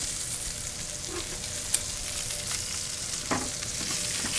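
Steaks searing in a hot pan, a steady close sizzle and crackle of frying fat with occasional small pops, alone with no talk.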